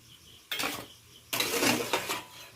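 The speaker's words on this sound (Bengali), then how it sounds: "বাটিগুলো আমি তুলে নিচ্ছি" Two short bursts of clattering as steamed egg bowls are lifted out of a cooking pot, metal and ceramic knocking close by with no voices.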